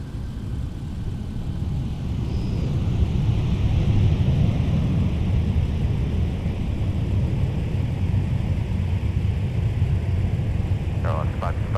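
A jet airliner takes off from a runway at Minneapolis–Saint Paul airport, its broad engine roar steady and loud throughout, building slightly after the first few seconds, with a faint whine above.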